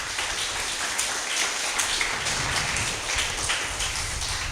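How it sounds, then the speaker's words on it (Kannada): Congregation at a Christian prayer and preaching gathering clapping hands in praise, a dense, steady wash of many hands continuing throughout without speech. "ಚಪ್ಪಾಳೆ ತಟ್ಟಿ ದೇವರಿಗೆ ಸ್ತೋತ್ರ ಮಾಡಿ."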